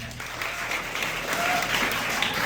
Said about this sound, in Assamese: ৰহমানৰ কাৰণে এটা হাত চাপৰি লাগে